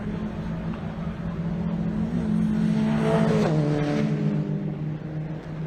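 A Citroën Saxo race car engine drones steadily during a race and rises in pitch as it accelerates near the middle, with another car's engine note audible alongside.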